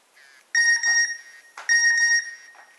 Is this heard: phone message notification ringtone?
yes